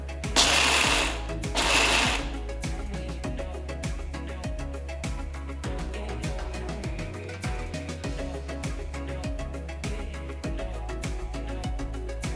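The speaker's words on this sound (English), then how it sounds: "Transfer the peanuts to a mixer jar and coarsely grind it." A kitchen mixer grinder coarsely grinding roasted peanuts in its jar, a loud continuous motor whir with rattling, rhythmic chopping pulses and a couple of brief louder bursts early on, no voices.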